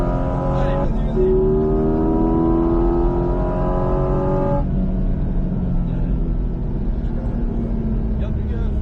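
A Porsche 718 Cayman GT4 RS engine accelerates hard on the Mas du Clos circuit, heard loud from inside the car. Its tone climbs steadily, drops at two upshifts and then climbs again, while a voice talks over it.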